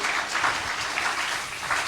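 A church congregation claps together in a steady, dense round of applause that fills the room at even loudness from start to finish.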